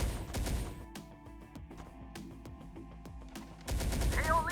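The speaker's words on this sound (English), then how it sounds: "Enemy fire!" Enemy gunfire in Terminator: Dark Fate rings out as rapid bursts of cracking shots and impacts, continuous and loud, with a heavier blast near the end.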